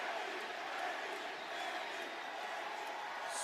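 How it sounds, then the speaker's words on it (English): A large arena crowd at a WWE SmackDown wrestling event cheers for Randy Orton, a faint, steady distant roar with no breaks. "They're cheering for Randy Orton"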